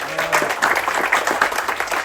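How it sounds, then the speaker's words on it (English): Passengers applaud crew members aboard the Amadeus river cruise, a continuous, moderately loud patter of many clapping hands with a brief voice at the start. "Big applause for Adi."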